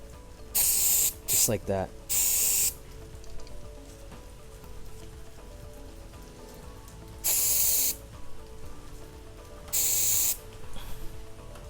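An aerosol cleaner can sprays through a straw into the intake of a Subaru WRX, giving several loud hissing bursts of one to two seconds each, spaced out, with someone speaking briefly between them.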